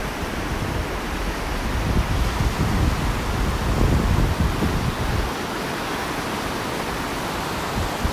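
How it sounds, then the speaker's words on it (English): Ocean waves roll onto a beach at North Naples, Florida, on a rough morning, making a steady broad wash of surf with swells of louder rushing. Wind noise on the microphone runs through it and there is no talk. "I love the sounds of these waves coming in."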